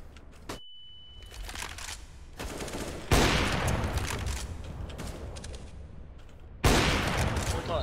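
Dense rapid bursts of automatic gunfire in the shooter game CS:GO, a sustained rattling barrage that breaks off and then resumes sharply, loud and close, with scattered single shots before it.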